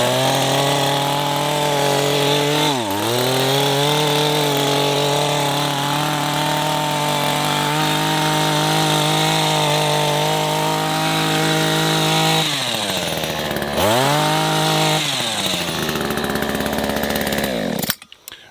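An Echo HC-2020 professional hedge trimmer cuts back an overgrown dwarf lilac bush, its two-stroke engine droning steadily close up, dipping and revving back twice as the blades bite, then cutting off at the end.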